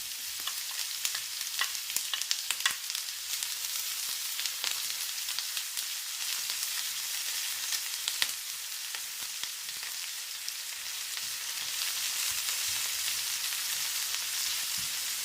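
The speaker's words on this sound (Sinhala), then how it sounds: "සුදු ලුණුයි ඉඟුරුයි දාලා රන්වන් පාට වෙනකම් බැද ගන්න" Garlic and ginger fry in hot oil for a meatball curry, a steady, even sizzle with light crackles and stirring, close and alone.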